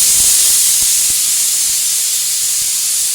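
A pressure cooker holding dried fish curry with tomato vents steam in a loud, steady, high hiss that runs unbroken and close throughout.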